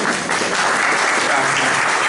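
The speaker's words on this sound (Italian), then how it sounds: "pregherei di fare un applauso." An audience claps at an Italian talk on art and beauty, sustained and evenly loud throughout with a faint undertone of voices.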